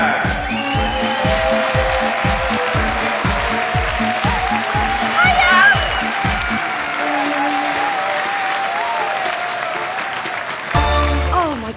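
A sold-out Liverpool crowd at a live comedy show erupts in sustained applause and cheering, with rhythmic clapping and stomping over the first half, then a dense roar of whoops and shouts that carries on loudly throughout.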